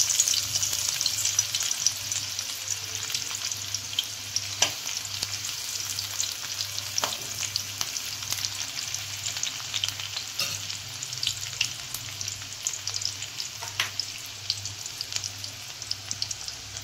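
Onion frying in hot oil for a chana masala curry makes a bright, steady sizzle up close, with occasional stirring clinks and scrapes and a low background hum.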